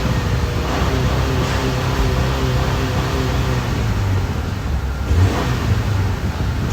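A 2020 Subaru Forester with an overheating air pocket in its cooling system, its engine held at a steady, droning rev up close, with a small bump in pitch near the end and no talking.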